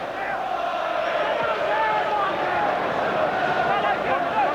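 Roar of a football stadium crowd of around 39,000 at Liverpool v Aston Villa: a steady, distant wash of voices and cheering that continues throughout without break.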